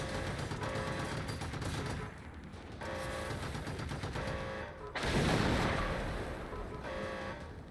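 Turrets firing in the video game Generation Zero, rapid sustained bursts of automatic gunfire that pause briefly, then resume with a heavier booming volley, loud and dense.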